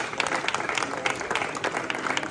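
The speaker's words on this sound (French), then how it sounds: "je voudrais que vous puissiez les applaudir" Steady crowd applause at the Arras Village des Assos 40th anniversary gathering, a continuous even wash of many hands clapping with no pause.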